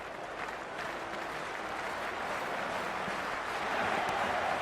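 A stadium crowd in the Cricket 26 video game cheers and applauds continuously, a dense wash of clapping and noise at a moderate, steady level with no voices standing out.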